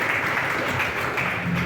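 A church congregation applauds together in a brief, dense burst of steady clapping from many hands, with no talk over it.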